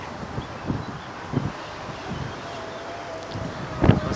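Wind gusts buffet a microphone outdoors beside water where a radio-controlled boat runs, bringing rough, uneven rushing noise with several louder bursts, no voices.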